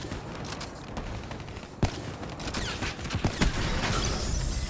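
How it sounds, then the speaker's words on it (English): Sniper rifle quickscope shots ring out in Black Ops 3: several sharp cracks and mechanical clicks over busy in-game ambience. "It's when you aim in your scope, and quickly fire and then exit out"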